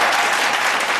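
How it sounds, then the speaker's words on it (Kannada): Loud, dense audience applause fills a grand finale episode of a couple-based reality TV show as guests are welcomed, a steady wash of clapping throughout with no speech over it. "ಇವತ್ತು ನಮ್ಮ ಗ್ರ್ಯಾಂಡ್ ಫಿನಾಲೆಗೆ ಬಂದಿದ್ದಾರೆ ಜೋರ್ ಚಪ್ಪಾಳೆ ವೆಲ್ಕಮ್ ವೆಲ್ಕಮ್"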